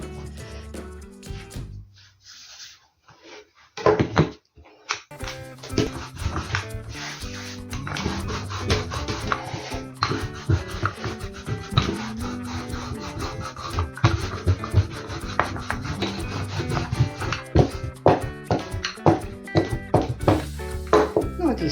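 Pelmeni dumpling dough being rolled out on a floured surface, with repeated rubbing, scraping and light wooden knocks over a continuous background.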